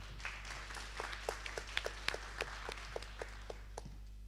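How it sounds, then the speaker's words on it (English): Applause from an audience welcoming the next startup onto the stage at a pitching session, sparse and scattered claps spread over several seconds, moderately near, with a steady low hum underneath. "A round of applause."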